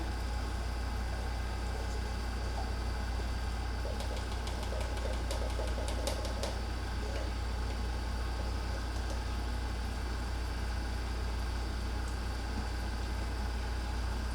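An FRL XP 235 M2 engine runs steadily at 1,360 RPM, producing a constant low droning hum with a dense mechanical rattle and a faint ticking layer, loud and unchanging throughout.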